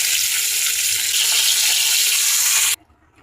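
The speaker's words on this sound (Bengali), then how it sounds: "মাছ ভাজা।" Fish fries in hot oil with a loud, bright, continuous sizzle and crackle that runs steadily for under three seconds before cutting off abruptly to near silence.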